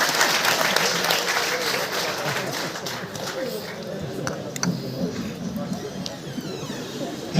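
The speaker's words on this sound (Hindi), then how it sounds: "Can we have a huge round of applause?" Audience applause fills a book release event hall, a dense continuous round of clapping that gradually thins out without voices speaking over it.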